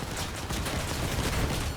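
Dense, continuous gunfire from vehicle weapons in the Crossout combat game, a steady barrage of overlapping shots and impacts filling the whole stretch without pauses.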